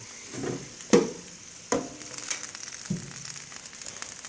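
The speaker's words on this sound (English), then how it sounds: "the peppers are very hot. You can still hear them sizzling." Oven-roasted peppers, still very hot, crackle and sizzle softly up close, punctuated by a few sharp pops and scrapes as they are moved around.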